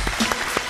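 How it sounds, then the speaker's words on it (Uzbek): Studio audience applause on a business talk show, welcoming an entrepreneur guest to the stage; a short, moderately loud burst of clapping with scattered louder claps. "kutib olamiz qarsaklaringiz"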